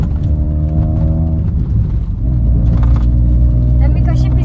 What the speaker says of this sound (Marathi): काही गाडीचा आवाज पण सांगा कसा वाटतो